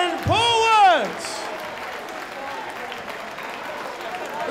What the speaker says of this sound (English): Let's have a big, big round of applause for Big Cliff